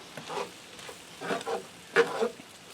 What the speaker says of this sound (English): I'm just going to give that a stir to get that blended around in there.